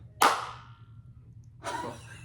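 A single sharp hand clap in a home theater room rings out with a short decaying echo, followed by a second, softer burst of sound a little over a second later, in an otherwise quiet room.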